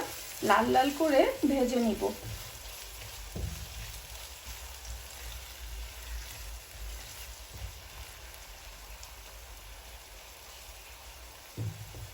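Onions fry in a pan for an egg dopiaza, a soft, even hiss and crackle close by, with a brief voice-like murmur at the start and a couple of light knocks later.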